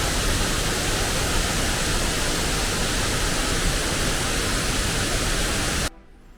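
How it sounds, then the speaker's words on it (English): Roar of a massive waterfall at Tivoli near Rome, a loud, steady broadband rush of falling water that holds constant and close until it cuts off abruptly near the end. "So there's a massive waterfall."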